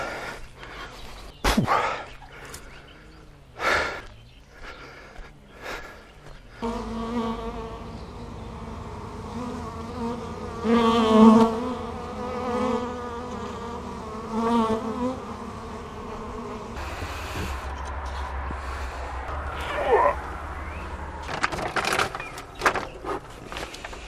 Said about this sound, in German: denn die Bienen hier sind noch ganz schön aggressiv